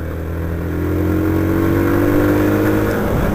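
A Yamaha YBR 125 motorcycle engine runs close and loud, a steady buzzing hum that climbs slightly in pitch as it is revved, with no voices.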